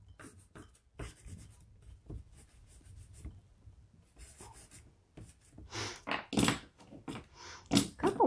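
Black pastel stick scratching and rubbing across paper while laying in water reflections beneath city buildings in a night scene, a run of dry, gritty strokes that grows louder and choppier toward the end.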